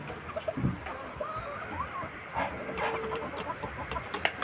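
A Kanaway fighting-breed mother hen gives soft, scattered clucks amid outdoor background noise, with faint bird calls and a distant voice.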